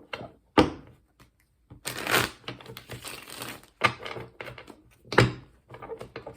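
Tarot cards are shuffled by hand in bursts of riffling and slapping, with short gaps and soft thumps between handfuls of the deck.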